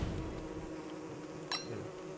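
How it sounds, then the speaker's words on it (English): Bees buzzing in the video game Don't Starve, a steady low insect drone running throughout at moderate level, with one brief sharper burst midway. "I think the bees have given up."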